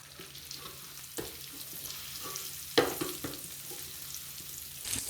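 Ginger-garlic paste fries in a pan with white cumin, black cardamom and bay leaves, giving a soft sizzle under a few sharp spoon scrapes and taps from stirring. No one speaks.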